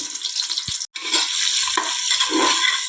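Onions frying in a pan for dill leaf pulao, a close hissing sizzle with scraping stirs and a brief dropout near the start, steady and fairly loud with no talking.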